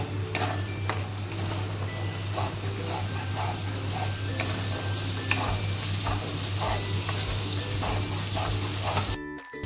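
Water sizzling and bubbling in a pan of chicken do pyaza spiced with chili, coriander and cumin powder over a raised flame, a continuous close sizzle with light stirring scrapes throughout and a steady low hum underneath.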